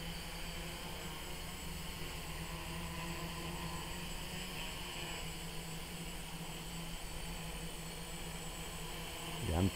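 BumbleBee 550 remote-controlled helicopter-style aircraft flying in light wind, a steady engine drone with a constant whine held throughout, rising briefly at the end.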